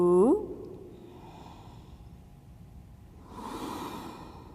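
Deep breathing during a yoga forward fold: a short sharp inhale at the start, quiet stillness, then a long soft exhale near the end, close and alone.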